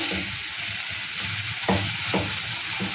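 Mustard stuffing for stuffed ash gourd fries and is stirred in a pan: a steady close sizzle runs throughout, with a few sharper spatula scrapes near the end.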